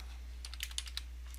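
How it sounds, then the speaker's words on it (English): A computer keyboard being typed on while entering a Windows Pktmon command, a quick run of light, close key clicks over a steady low hum. "This time we're going to type pkap"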